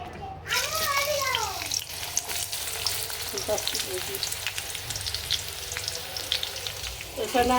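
Onions and chillies fry in hot oil in a wok, giving a steady close sizzle with stirring scrapes, and a voice chimes in briefly near the start.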